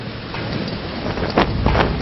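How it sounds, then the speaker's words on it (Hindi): Rain and water drip through a leaking roof as a steady, loud, wind-like hiss, with a couple of brighter splashy bursts near the end. "फिर से टपकती बूंदें।"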